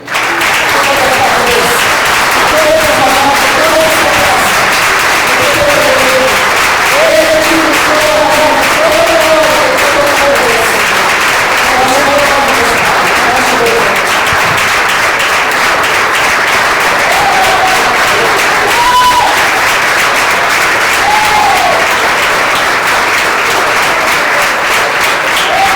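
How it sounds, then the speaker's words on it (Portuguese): A church congregation at a family worship service claps for the Lord, loud continuous applause filling the hall, with tonal voices and sung or shouted praise woven through the steady clapping. "só aplauda o Senhor"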